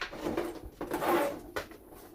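Loose marbles rolling and knocking around inside a wooden drawer: a short, close rumbling roll with a couple of sharper clacks and rattles.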